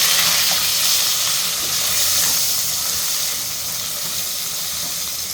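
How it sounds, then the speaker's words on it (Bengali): Egg frying in oil, a continuous bright hiss and sizzle that holds steady and eases slightly toward the end, close and fairly loud with no voices. "ডিমটা তেলের মধ্যে ভেজে নিচ্ছি।"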